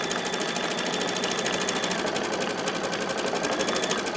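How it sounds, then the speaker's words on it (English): An embroidery machine stitches applique onto a tea towel, giving a steady, fast, even mechanical chatter of rapid needle strokes that runs continuously at close range with no pauses. "You see how it's actually stitching"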